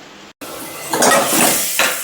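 A lid is set onto a cooking pot holding tomatoes seasoned with salt and yellow powder, giving a metallic clatter and scrape over a steady background hiss, close and fairly loud.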